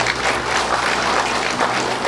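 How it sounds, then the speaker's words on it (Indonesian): Applause for a monsignor at the inauguration of a Catholic church, steady and dense clapping from the gathered crowd that fills the whole moment without speech. "Tepuk tangan untuk Monsinyur."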